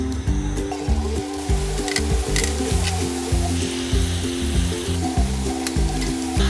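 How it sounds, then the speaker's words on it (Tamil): Sweet somas deep-frying one at a time in hot oil over a medium flame, giving a loud, continuous close-up sizzle with crackling bursts throughout. "சோமாஸ் ஒன்று ஒன்றா போட்டு ஃப்ரை பண்ணி எடுத்துக்கலாம்."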